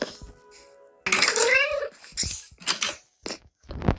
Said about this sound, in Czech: může přestat mňoukat ta kočka